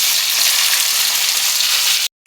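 Cut flat beans frying in hot oil give a dense, even sizzle, loud and close, holding steady for about two seconds before cutting off abruptly, with no voices.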